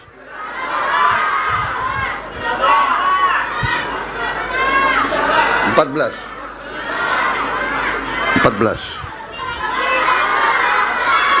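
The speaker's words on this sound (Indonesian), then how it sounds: "Kalau semua teriak saya nggak bisa dengar." A large crowd of children shouts answers in unison at a dam inauguration event, the loud bursts of voices rising and falling repeatedly with an adult speaking between them.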